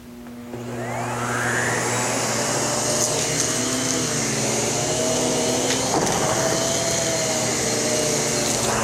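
A Miele vacuum cleaner motor starts up and runs steadily on its smooth setting at a loud, constant whine with a droning hum underneath, no voices.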